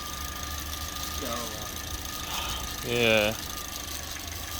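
A Swift's engine idles steadily in a garage after new seals were fitted, a low continuous hum with a faint rattle running beneath short bits of talk.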